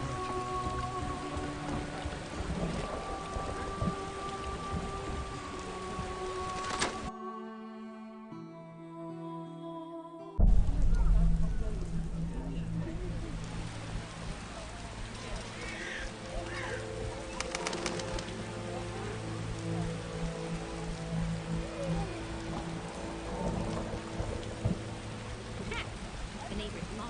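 Heavy rain downpour in the video game The Witcher in Vizima's Temple Quarter, a steady hiss of rain on surfaces with pigeons cooing, a brief gap in the middle, then continuing under occasional voices.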